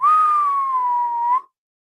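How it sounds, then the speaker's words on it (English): A person whistles one clear, sustained note for about a second and a half, starting with a slight rise, then gliding gently downward before stopping abruptly into silence. "that was a good whistle right there"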